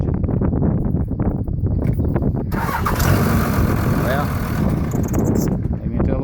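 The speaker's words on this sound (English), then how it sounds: "let me see if it'll start this time, and I'll show you what I'm talking about. Hold the camera out here and let you hear the engine." A 2001 Dodge Ram 2500 with a Cummins diesel starting up and running, a heavy rattling, clattering rumble recorded close by, with a brief louder surge of noise partway through.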